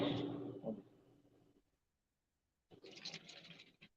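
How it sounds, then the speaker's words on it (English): A drink is poured into a glass in two separate bursts of liquid splashing, near and fairly quiet, with a short silent gap between the pours. "Let me pour some more."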